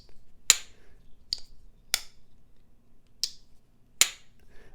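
A lightweight carbon fiber slip joint pocket knife snaps shut five times, each a sharp crisp click up close with short gaps between, alone in a quiet room.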